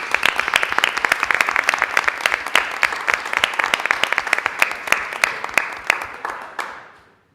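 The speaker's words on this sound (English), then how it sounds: "If we could give a round of applause to all of these student leaders." Audience applause for a group of student leaders at a school committee meeting, dense, steady clapping from many hands that holds for several seconds, then thins and fades out near the end.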